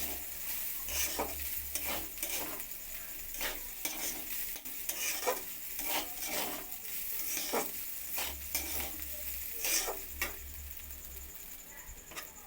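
Rice crackles in hot ghee while a spoon scrapes and stirs the pan in regular strokes, a soft steady sizzle underneath.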